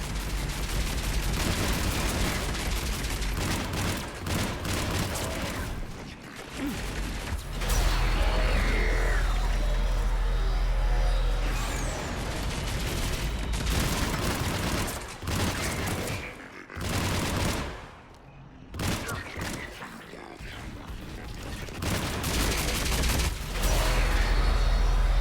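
Sustained weapon gunfire and heavy blasts from the Mass Effect video game, during a fight near a shuttle, with a dense stream of rapid shots and booms running loud and almost continuously, with only brief lulls.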